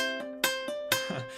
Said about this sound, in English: it's okay if your pull-offs sound like this.